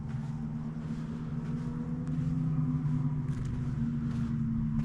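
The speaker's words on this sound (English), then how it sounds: "So you can hear the motorbikes or not over the other side." Distant motorbikes carry across a Scottish loch to a lochside wild camp, heard as a low, steady engine drone and rumble, faint and far off, with no talking.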